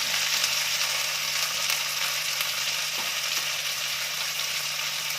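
Onions fry in a pan over a village-style cooking setup, giving a continuous soft sizzle with a faint low hum underneath and no voices.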